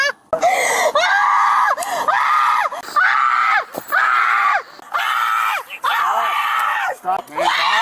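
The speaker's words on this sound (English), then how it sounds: "Stop screaming." A panicked woman screams while an officer restrains her outside a Walmart, her loud, strained cries coming in repeated close bursts with brief breaks between them.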